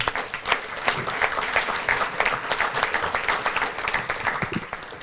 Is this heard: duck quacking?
no